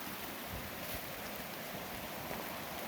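Rain falls outdoors at Hamma Hamma as a steady, close hiss of drops, constant and even throughout, with no talking.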